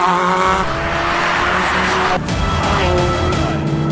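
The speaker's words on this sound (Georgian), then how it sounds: "Subaru-ს ოპოზიტორი 4 ცილინდრიანი" A Subaru boxer four-cylinder engine roars loudly at high revs with a raspy, buzzing tone, briefly dipping partway through before pulling hard again, close and unaccompanied by voices.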